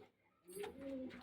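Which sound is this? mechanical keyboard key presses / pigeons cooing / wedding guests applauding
pigeons cooing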